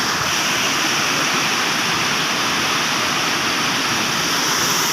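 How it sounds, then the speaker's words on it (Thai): A two-tiered waterfall roars steadily and loudly, a dense unbroken wash of falling water that fills the whole moment without pause. "เป็นน้ำตกสองตาดเลย"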